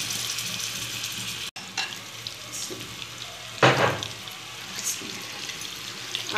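Marinated chicken tikka is added to hot oil in a pan for a creamy chicken tikka macaroni, giving a steady close sizzle and crackle with a louder burst of frying midway and brief clatter, no talking.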